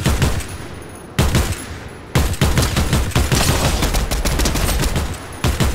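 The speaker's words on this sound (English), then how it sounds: "Is that you shooting, or is that someone else?" Dense, loud automatic gunfire from the Fortnite video game, with rapid bursts and crackling shots that pause briefly twice before resuming.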